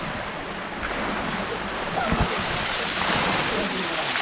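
Many children jump and splash in a deep natural rock pool on the Dampier Peninsula, a continuous wash of churning water and splashes with a few louder thumps, mixed with indistinct voices in the background.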